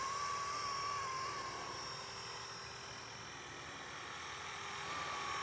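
A Blade Eclipse 360 scale RC helicopter in flight gives a steady, moderately loud rotor and motor whine with a thin high tone that drifts slightly in pitch, continuous for the whole stretch with no talking.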